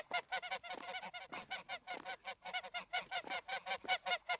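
A flock of geese honks repeatedly in rapid, overlapping calls, a busy rhythmic chorus of harsh nasal honks at moderate distance with no talk.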